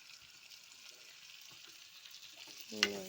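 Potatoes frying in a pan with a soft, even sizzle, quiet and steady, and a single metallic knock of a stirring spoon near the end, with no voices.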